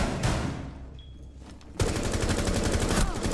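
Rainbow Six Siege gunfire: scattered shots early, then a sustained burst of rapid automatic fire that runs loud and continuous through the second half.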